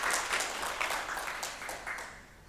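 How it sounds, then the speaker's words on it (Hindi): Audience at a student honours ceremony gives a short burst of clapping that fades slightly toward the end, moderately loud in a hall. "एक बार ज़ोरदार तालियां उनके लिए हो जाए"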